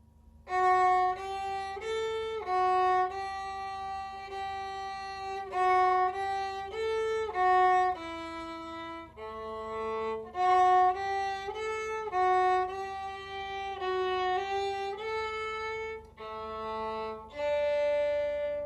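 A bowed viola, cello and bass part plays Mosley's "Shepherd's Hey" solo, a lively folk tune of short detached notes in bouncy phrases, steady and clear across the whole stretch with brief gaps between phrases.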